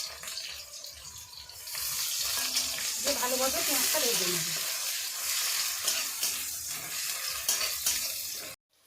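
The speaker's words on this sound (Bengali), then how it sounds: "পেঁয়াজটা ভাজা হয়ে গেছে" Onions sizzle in hot oil in a pan with panch phoron and green chillies, a steady close frying hiss with some stirring, and a brief wavering tone midway; no voices are heard.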